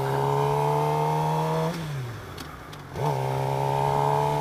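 A Suzuki GSX-R 750 sport motorcycle drones at a high steady engine pitch, drops briefly as the rider shifts, then climbs back to the same loud sustained whine while riding, close and continuous.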